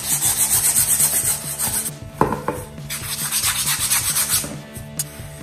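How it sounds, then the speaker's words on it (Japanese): Sandpaper rubbed by hand over a gesso-coated plywood canvas board, a loud, close, rhythmic rasping in repeated back-and-forth strokes with a brief pause and a few taps midway, no talk. "こうやって触ってツルツルな感じになるまでやすりをかけていきます。"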